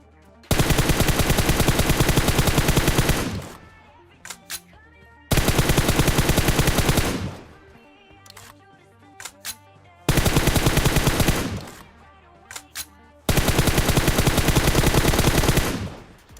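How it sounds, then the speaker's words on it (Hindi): M4 rifle in a video game fires in four long sustained automatic bursts of roughly three seconds each, loud and close, with brief scattered single shots and quieter gaps between bursts. "मैं खिड़कियों पर बहुत ही तगड़ा प्री फायर इसलिए दे रहा था"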